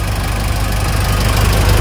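A Mitsubishi L300 FB van engine idles steadily and loudly up close, a continuous low rumble with no pauses and no talking.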